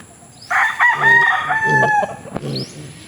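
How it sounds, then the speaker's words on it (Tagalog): A white Kelso rooster crows once in a backyard, a loud, close, drawn-out crow with a rising start and a wavering, stretched tail that fades at the end. "Manok na ito mga kabakyard."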